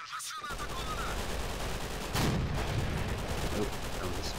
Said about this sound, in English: Right now they're just shooting at each other.